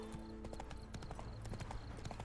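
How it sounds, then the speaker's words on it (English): Horse hooves clip-clop in a steady, quick rhythm in The Witcher 3 video game, with the beats close and prominent over a constant game background. "We can do a bit of off-road with our horse."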